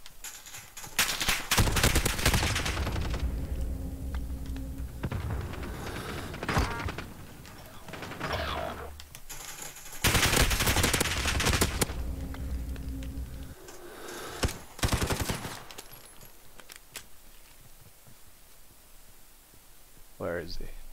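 Bizon submachine gun fired in Call of Duty Ghosts, loud sustained automatic bursts in several long strings with brief pauses between, with talking over parts of the clip.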